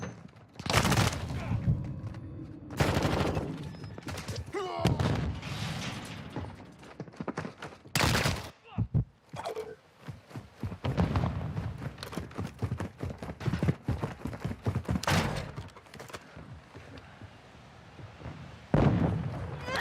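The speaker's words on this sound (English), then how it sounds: "Stun grenade!" A stun grenade bang and bursts of gunfire in Call of Duty MWII, several loud sharp cracks scattered through a busy firefight, with voices calling out over the action.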